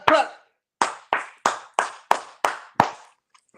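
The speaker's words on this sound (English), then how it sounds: "Just clap your hands a little louder." An audience claps hands in slow, evenly spaced beats, eight sharp claps close and loud, with no music.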